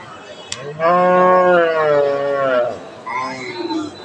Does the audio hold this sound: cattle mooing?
yes